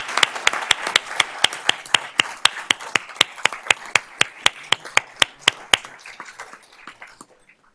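Claps ring out at a steady beat at a December school board of trustees meeting, a few sharp hand claps over a soft patter from a small group, fading near the end.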